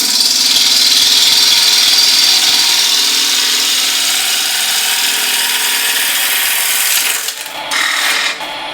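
A Harvey Turbo T-40 lathe spins beech at 1200 RPM with a steady, bright whirring hiss as a ball gouge cuts. The sound drops and scrapes toward the end, with no talk.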